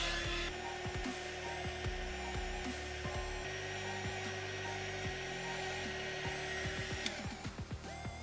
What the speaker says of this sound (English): we'll use some heat to shrink the tubing